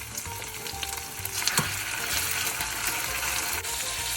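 Veal liver and half-cooked onions fry in olive oil in a pan, giving a steady close sizzle with a brief sharper crackle as the liver goes in.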